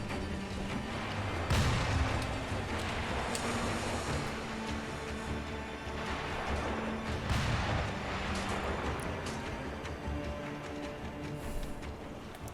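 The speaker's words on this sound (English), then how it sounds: "that doesn't involve you running through all this gunfire" Gunfire rings out in the video game Sekiro: Shadows Die Twice, heavy booming blasts at intervals over a constant rumbling background of battle noise.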